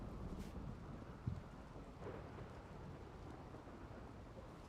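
Rain falls steadily in the RimWorld video game, quiet and continuous, with a brief low thunder rumble partway through.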